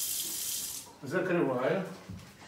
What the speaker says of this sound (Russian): Сейчас я набираю сюда стакан воды